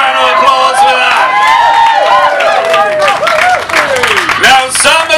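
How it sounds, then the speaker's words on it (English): Audience applause with cheering at a Brighton festival poetry event, a loud dense wash of clapping and crowd voices with chatter and shouts mixed in throughout. "Give us a round of applause for that."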